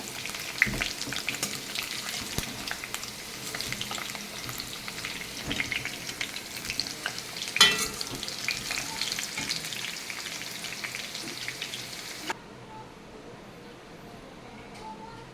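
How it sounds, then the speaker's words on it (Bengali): Potatoes fry in hot oil for a rohu fish curry, making a loud, steady close-up sizzle with occasional stirring scrapes, before the hiss drops to a quieter bubbling near the end. "আমার আলুটা ভাজা হয়ে গেছে, এখন আমি নামিয়ে নেব আলু ভাজাটা"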